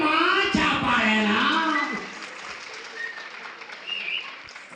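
A comedy show audience applauds: a voice speaks over the opening, then a broad wash of clapping carries on and slowly thins.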